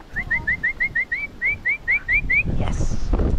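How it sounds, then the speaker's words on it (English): A person whistles a quick series of about a dozen short rising notes in steady rhythm to prompt a puppy during training, followed by a burst of rustling noise. "I start whistling to prompt him on"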